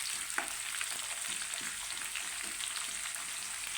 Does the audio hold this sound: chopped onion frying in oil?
yes